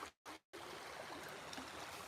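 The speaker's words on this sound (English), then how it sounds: "This is the creek that I bass fish in." An Oregon bass-fishing creek flows quietly in a soft, steady trickle, faint and continuous after two brief dropouts at the start.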